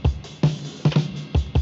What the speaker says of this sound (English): So when I take the filter off, it sounds like this.